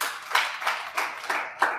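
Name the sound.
audience clapping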